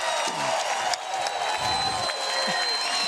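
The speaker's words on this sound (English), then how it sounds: "And wow, is this crowd excited." An excited crowd at a 2022 US Open pickleball senior pro doubles match claps and cheers in a sustained wash of applause, with a few whoops and shouts rising from it.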